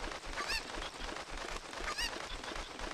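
A chicken in the video game Zelda: Ocarina of Time gives two short squawking honks about a second and a half apart over a steady background.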